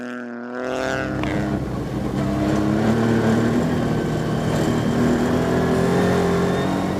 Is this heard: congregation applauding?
no